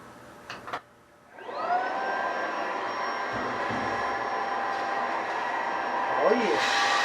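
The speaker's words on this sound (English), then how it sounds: "It's got a little vacuum cleaner." A small vacuum cleaner with an attachment cleaning inside a Frigidaire FEX831CS0 dryer starts with a rising whir, then runs as a loud, steady motor drone that fills the rest of the clip.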